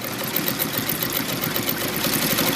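A sewing machine runs continuously with a fast, even mechanical whir while sewing a zigzag stitch. It sounds loud and close throughout, with no pauses and no voices.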